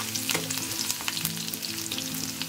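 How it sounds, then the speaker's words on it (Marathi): Crushed garlic cloves fry with cumin in hot oil for a Marathi onion papad chutney, producing a busy, crackling sizzle up close with small spattering pops throughout. "जिरे गरम झाल्यावर त्यामध्ये आपण 4 ते 5 लसणाच्या पाकळ्या ठेचून घेतलेल्या आहेत, त्या चांगले परतू द्यावे"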